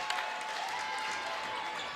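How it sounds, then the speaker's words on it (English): Basketball fans at a high school game in a gym applaud in a steady patter of clapping, with crowd murmur and a commentator's voice over it. "West Aurora fans applaud the defensive effort here."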